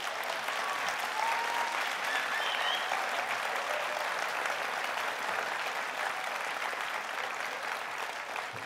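Audience applause at a French political conference on leaving the EU, a dense, steady wash of clapping from a seated crowd that holds evenly for several seconds, with no voices over it.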